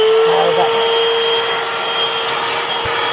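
A cordless RV vacuum cleaner runs at full suction in a close, loud, steady whine, with a brief clunk toward the end.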